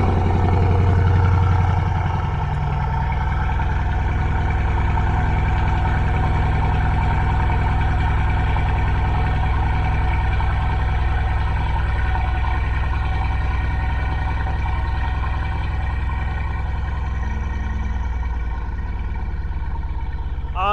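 A turbocharged BMW E36 325 six-cylinder engine rumbles steadily at idle for about twenty seconds, loud and close. A brief surge at the very start suggests it has just fired up.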